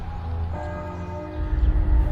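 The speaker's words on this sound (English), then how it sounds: "Bells chiming in the distance." Church bells chime in the distance in The Witcher video game, a steady ringing tone with low rumbling underneath, carrying on alone without speech for about two seconds.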